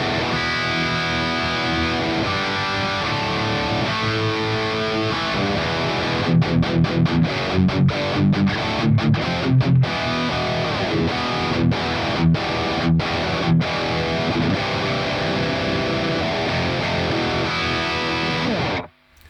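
High-gain electric guitar played through a Kraken amp on its gain 2 channel with preamp focus, a thick, dense distorted tone that is loud and steady, with palm-muted chugging bursts in the middle before it cuts off.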